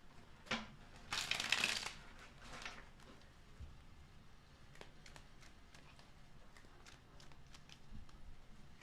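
Tarot cards shuffled by hand during a reading, with a brief riffling burst near the start and then soft, irregular flicks and taps that stay quiet throughout.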